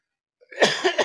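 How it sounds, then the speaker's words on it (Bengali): A man coughs in a quick series of harsh, throaty bursts that are close and fairly loud, after a short silence. "কাশিটা যখন উঠছে ভাই খুব কষ্ট পেয়েছি"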